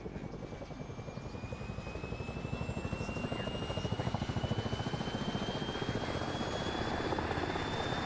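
Helicopter engines and rotors spool up in a video game, a steady loud turbine whine with a rising tone and rhythmic rotor chop building over several seconds, with no voices over it.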